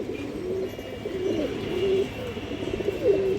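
A Muslodom pigeon pair coos in a steady run of soft, low, throaty calls repeating close by, with no talk over them.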